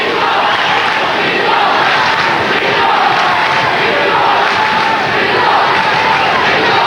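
A big crowd at a 1995 Umbro Cup international football match between Brazil and Japan, a steady loud roar of massed voices filling the stadium throughout, with no clear breaks.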